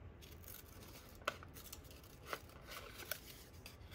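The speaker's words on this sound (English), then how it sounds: "Let's kind of rough cut this thing out." Scissors rough-cutting a piece of paper, a few soft snips and rustles, quiet and close, with no talk.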